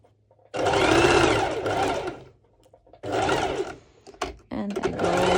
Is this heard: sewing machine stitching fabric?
yes